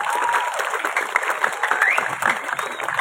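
A crowd at a Balinese Calonarang performance in Setra Budakeling claps in lively, dense applause, with some voices and cheers mixed in.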